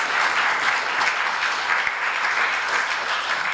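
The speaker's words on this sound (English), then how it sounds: "A big round of applause." A conference audience at a scientific symposium on infection applauds, a dense, steady wash of many hands clapping at even loudness for the whole stretch, with no voices standing out.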